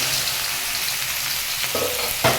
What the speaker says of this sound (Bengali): তো সয়াবিনটাকে আমি তেলে ভেজে নিচ্ছি।